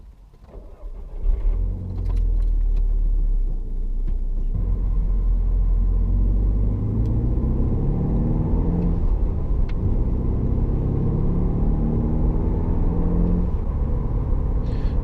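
A VW Golf 6 GTI Edition 35 driving, with a steady engine drone and road rumble heard from inside the car, rising after a quiet start and holding loud and continuous to the end.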